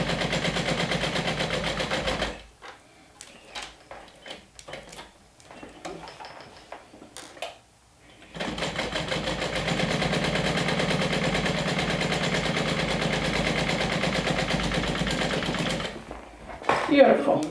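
A sewing machine stitches across the bottom of a LindSport bag, running in a long, steady, loud burst after a stretch of quieter handling noises and talk, then stopping before a final clatter.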